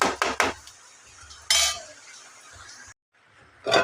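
Metal utensil clinks and scrapes against a pan while thoran is stirred, a few sharp knocks followed by a lid clattering down near the end, close and clear with no talk.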